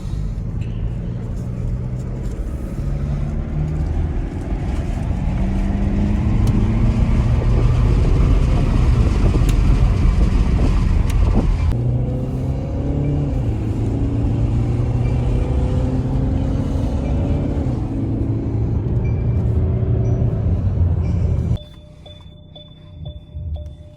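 A 2018 Mercedes E-Class diesel car on a test drive, heard from inside the cabin. A steady low engine and road rumble rises and falls through gear changes, then drops quiet near the end, with a faint electronic tone.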